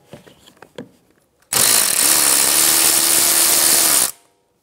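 A power tool runs in one steady whirring burst of about two and a half seconds, loud and close, while removing the 10 mm ABS sensor bolt on a 2013-2017 Honda Accord during front strut replacement; faint clicks come before it.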